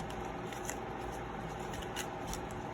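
A deck of tarot cards shuffled from a larger box of cards, giving a soft, steady riffling and flicking that runs continuously at low volume.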